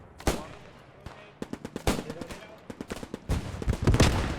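Sharp gunshots in the World War II shooter Post Scriptum, a pistol cracking amid scattered rifle and automatic fire, single close reports spaced irregularly then a denser cluster with a low rumble toward the end.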